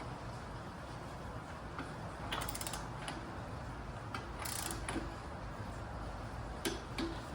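A few quiet ratcheting clicks from a torque wrench tightening a spark plug on a Honda Homelite pressure washer sound over a steady background hum, with brief bursts of ticking spaced a second or two apart.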